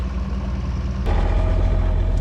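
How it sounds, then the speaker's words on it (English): A fishing boat engine drones with a low steady rumble that grows louder partway through, no voices present, at sea near Dartmouth. "here we have a fishing boat that's hoping to go and get the first fish"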